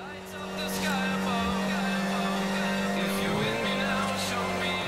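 A car engine hums and revs steadily while driving in the racing game Forza Horizon, a continuous mid-level drone with a slight pitch shift partway through and light talk over it.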